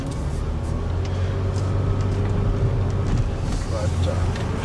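An old Ford Windstar minivan drives along, giving a steady, loud low rumble of engine and road noise that continues without a break.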